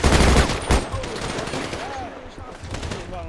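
Bursts of automatic gunfire aimed at police in the Grizzley World RP video game, loud and dense at the start and then fading to scattered shots, with someone talking over the game sound.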